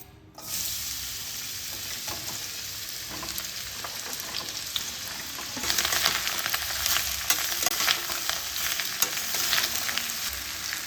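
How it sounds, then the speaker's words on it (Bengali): Snake gourd frying in hot oil in a wok, a steady close sizzle that starts abruptly and grows denser and crackly midway, with faint stirring scrapes and no talk. "কড়াইয়ে তেল গরম করে নিয়েছি এর মধ্যে এবার দিয়ে আমি ফ্রাই করে নেবো"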